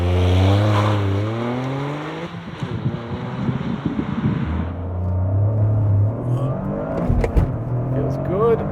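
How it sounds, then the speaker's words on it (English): 2023 Toyota GR Corolla with a manual clutch, doing a launch-control start to 120 km/h: engine holds at high revs, then pulls hard through rising gear changes, with wind noise and a voice talking over it. "mash the throttle with the clutch in until launch control activates, slip the clutch, and then we'll just power our way through to 120"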